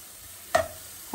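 Onions frying in oil in a pan, a low soft sizzle broken by one sharp utensil scrape or clink midway and another at the end, close and quiet.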